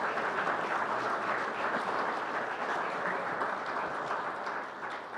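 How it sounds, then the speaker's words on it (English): A banquet audience applauds Hall of Fame inductees, a steady dense wash of many hands clapping at even loudness throughout, with no voices over it. "You can clap right there."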